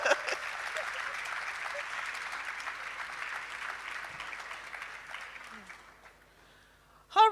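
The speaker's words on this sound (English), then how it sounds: "So please, another big round of applause." Audience applause at a conference opening session, moderately loud and continuous, thinning and fading out toward the end before a short sharp sound at the close.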